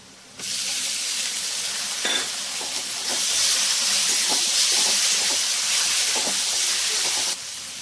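Turmeric and tomato sautéing in a pan give a steady, close sizzling hiss with light stirring clicks, getting louder partway through and then easing off near the end.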